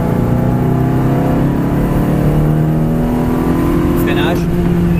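A Ferrari 360 Modena F1 accelerates steadily on the Mettet race circuit, its engine note holding a loud, continuous drone with rising harmonics, while someone talks throughout over the sound.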